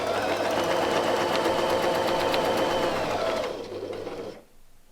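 A sewing machine stitches quilting lines guided by a circle ruler, running in a steady fast mechanical whir for several seconds before slowing and stopping.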